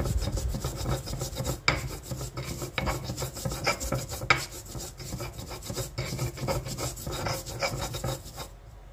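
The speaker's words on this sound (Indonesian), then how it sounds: "Kita haluskan ketumbarnya, dua kemiri" Coriander seeds and two candlenuts are ground by hand for crispy egg-stuffed tofu seasoning, giving a steady rasping, scraping rhythm of repeated strokes up close, with no talking.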